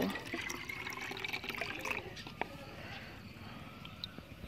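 Liquid is poured into a mixing container for a chili plant spray, a soft trickling stream with a few small splashes, close, while someone talks over it.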